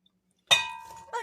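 A bowl is set down, giving one sharp ceramic clang with a ringing tail, followed by a softer second knock about half a second later.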